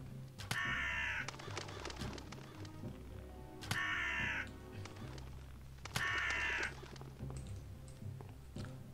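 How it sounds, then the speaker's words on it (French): Three loud, harsh crow caws from the video game Unepic, spaced a few seconds apart over a steady low game hum with a faint, brief voice. "On tue les corbeaux!"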